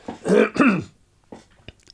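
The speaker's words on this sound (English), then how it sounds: "excuse me, I got a cough" A couple of rough, throaty coughs close by, followed by a brief pause and a few small throat noises.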